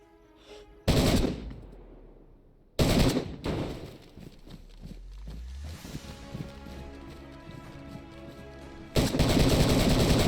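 Gunfire in DayZ Standalone, a game-world firefight: loud bursts of shots with heavy recoil around 1, 3 and 9 seconds, separated by quieter rumbling stretches with softer reports.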